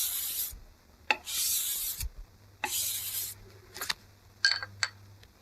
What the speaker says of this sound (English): So get some sandpaper on there, wrap it tight,